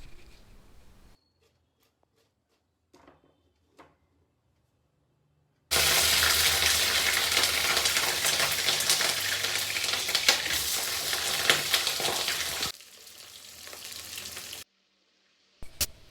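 Cauliflower hits hot mustard oil and desi ghee with spices while still wet, setting off a sudden loud, sputtering roar of frying that crackles steadily for several seconds, then drops to a softer sizzle and fades to silence.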